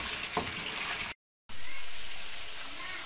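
Masala fries hard in a karahi over a high flame for a Lahore-style Butt chicken karahi, a dense, close hiss that cuts out briefly before the sizzle returns strong and slowly eases off.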